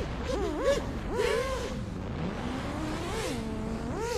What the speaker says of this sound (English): Can really hear those motors spooling up on the yaw.